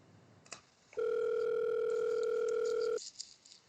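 A steady two-tone telephone dial tone hums for about two seconds in an audio drama scene, clear and close, framed by faint clicks of the handset and soft background noise before and after.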